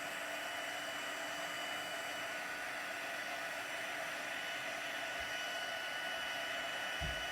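A heat tool melting embossing powder over a Versamark layer on a papercraft background, a steady, even blowing whir that holds constant throughout with no pauses.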